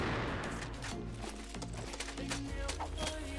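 An AWM sniper rifle fires in the shooter game CrossFire (Đột Kích), giving repeated sharp gunshot cracks in irregular bursts over a loud game soundtrack, with no talking.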